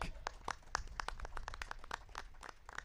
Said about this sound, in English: A big round of applause for everyone because we're all the way back